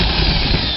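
A steady, loud power-tool whine with a low motor rumble runs without pause as a drill bores holes through wood of a wooden swing set up close.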